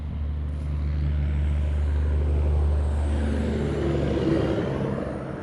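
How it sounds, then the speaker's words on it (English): Loud truck passing close by, a heavy low engine rumble that swells to a peak midway and lingers before easing slightly, with no talk over it. "let's let this truck pass. I don't know why it's so loud."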